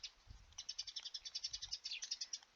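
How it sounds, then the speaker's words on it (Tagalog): Small birds chirp outdoors in a rapid, continuous run of high, thin tweets, faint and somewhat distant, with a low rumble underneath and no speech. "narinig nyo ba yung mga ibon? Daming ibon dito sa amin eh."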